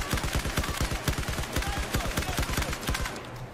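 Rapid gunfire from the Battlefield 4 campaign on the Tashgar mission, a dense automatic burst of loud, close shots rattling continuously for several seconds with no talk over it.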